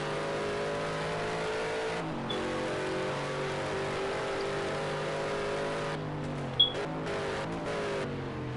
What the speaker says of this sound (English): I always love the sound of Mustangs,